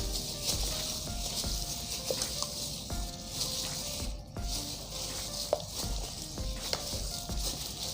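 Chicken thighs tossed with oyster sauce in an electric pan, giving a steady close sizzle with scattered scraping and stirring clicks throughout, no talk.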